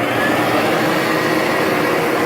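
A shop vac fitted with a cyclone dust separator runs in a home machining shop, a loud, steady whooshing motor drone with broadband airflow noise throughout.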